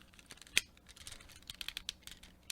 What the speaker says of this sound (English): the larger clicky joint, which has a Technic pin-like end and ratcheting